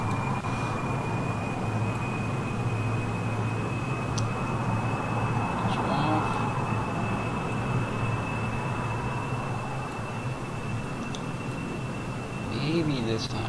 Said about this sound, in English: Space plane, take off.